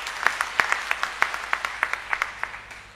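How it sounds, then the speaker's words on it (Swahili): A church congregation claps together in an irregular, lively patter of sharp hand claps that goes on steadily throughout, with a faint murmur of voices underneath. "Tuwapigie makofi watumishi wa Mungu."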